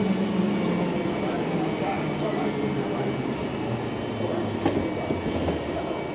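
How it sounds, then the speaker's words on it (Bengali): Train pulling into a platform in Stockholm, a steady loud rumble and rolling roar of the cars with a high whine running throughout and a faint clack near the end. "10:06 বাজে ট্রেন ঢুকছে প্ল্যাটফর্মে।"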